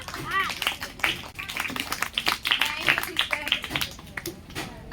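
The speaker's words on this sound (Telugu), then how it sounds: "క్లాప్స్ కొడదామా?" A group of children claps along in rhythmic, quick bursts at a gathering, steady and moderately loud, with voices talking and calling out over the clapping.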